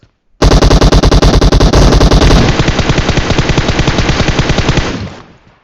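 Loud, close automatic gunfire in the video game PUBG Mobile, a rapid steady burst of shots that starts abruptly, runs for about five seconds and then fades away.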